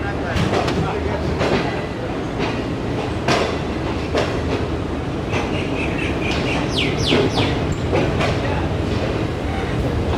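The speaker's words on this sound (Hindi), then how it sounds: "ट्रेन हमारी निकल गई है जी फाइनली कोटरी जंक्शन रेलवे स्टेशन से" The Shalimar Express pulls slowly out of Kotri Junction railway station with a steady rumble and rhythmic clacks of wheels over rail joints, while birds chirp clearly in the foreground and a voice talks briefly.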